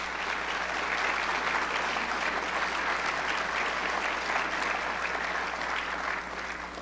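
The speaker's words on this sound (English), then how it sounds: "get a round of applause just for these great results that you have achieved" Sustained audience applause at an education awards event in Milwaukee, a steady dense wash of clapping that holds evenly for several seconds before easing slightly at the end.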